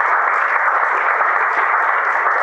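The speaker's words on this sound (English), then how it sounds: "just want a round of applause for that" Applause for a cook and his team at a community event, a dense, steady wash of many hands clapping together continuously without a break.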